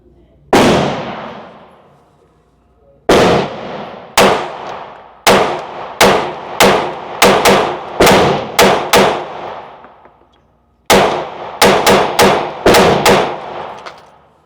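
A ported CZ P10C pistol fires at 7 yards, loud sharp shots ringing out close by, a single shot followed by a few spaced rounds and then quick strings of rapid fire.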